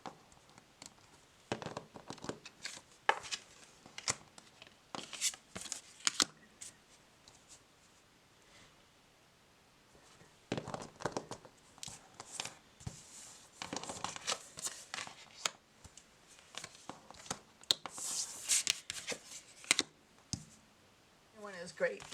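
Chunky tarot cards with thick cardstock being shuffled, giving bursts of crisp clicking and riffling in several rounds, close by.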